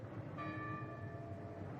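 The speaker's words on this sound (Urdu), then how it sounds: "جج ہاؤس کی گھنٹیاں پرشور آواز میں بجنے لگیں" Church bells ring with a sustained, shimmering tone over a steady ambient bed as a sound effect in a horror story, faint and continuous rather than struck repeatedly.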